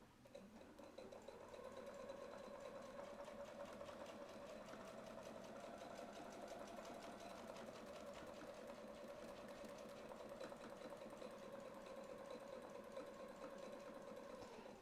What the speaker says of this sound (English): and sew around.